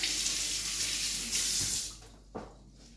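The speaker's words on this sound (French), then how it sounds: "donc je me lave les mains" Hands being washed under a running kitchen tap while cooking, a steady loud broadband rush of water that cuts off near the end, followed by a brief splash or clatter.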